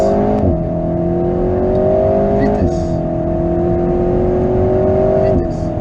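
On a driving course a car accelerates hard, its engine note climbing loud and close through gear changes in repeated rising sweeps, with a voice speaking over it.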